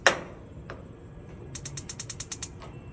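A gas grill igniter, freshly fitted with a new battery, snaps out a rapid run of about eight sharp electric clicks close up, after a couple of scattered clicks and light handling noise.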